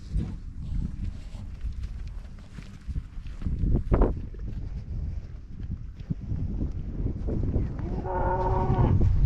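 Cattle on a farm during calving season, with a low, drawn-out moo rising near the end over steady wind and rustling outdoor noise, fairly close.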